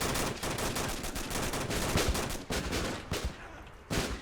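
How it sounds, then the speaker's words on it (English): Rapid, loud bursts of weapon fire and explosive thumps from a grenade launcher in a Men of War: Assault Squad Cold War battle, packed closely together with only brief gaps. "Oh, that's what it is. Wonderful. A grenade launcher."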